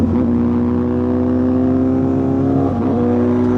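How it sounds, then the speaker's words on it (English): A sport motorcycle with a quick shifter holds a steady, loud engine drone near the rider, with a brief dip and pitch change near the end as it snaps up a gear, no voices. "if you go on throttle a little bit and then just kick it up a gear, you can quick shift"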